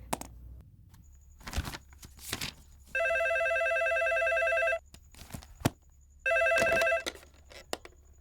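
A telephone rings in two long electronic bursts, each lasting nearly two seconds, separated by a pause. Soft knocks and small handling noises fill the gaps in a quiet room.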